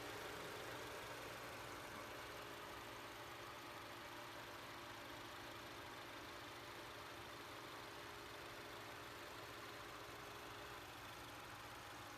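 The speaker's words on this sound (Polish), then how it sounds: "Silnik dwulitrowy EcoBoost, bardzo dobra jednostka, świetnie nadająca się pod instalację gazową." A 2015 Ford Mondeo with a 2.0 EcoBoost engine idles, a faint, steady, even hum that holds unchanged throughout with no voices.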